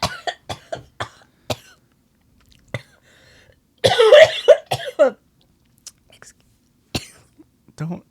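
A harsh coughing fit, a string of sharp coughs in bursts separated by short pauses, with one rougher, throaty spell in the middle.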